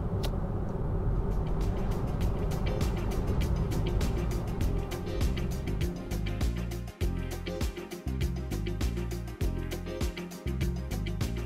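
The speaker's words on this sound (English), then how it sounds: "speaking of fast driving, it's not particularly noisy inside thanks to excellent aerodynamics" Cabin of a Hyundai IONIQ 6 electric car at high speed: a steady low road and wind roar fills the interior, with faint ticks and bumps over the top and no talk.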